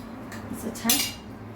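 Plates and cutlery clink as food is served onto a plate in a home kitchen: a couple of light, close metallic clinks over a quiet room hum.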